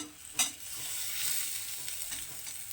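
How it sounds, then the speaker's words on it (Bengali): Potatoes and onions frying in a pan, giving a steady close sizzle with a brief sharper crackle near the start and faint stirring scrapes throughout. "আলুটা একটু হালকা ভেজে নেবো"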